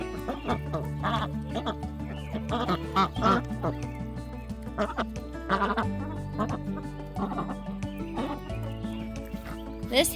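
Farm ducks quack in repeated bursts close by during evening chores, with other poultry calls overlapping over a steady low hum.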